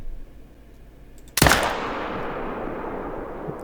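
A single sharp rifle shot cracks out while hunting wolves in the Yukon Valley, followed by a long echoing rumble that slowly fades over quiet outdoor ambience.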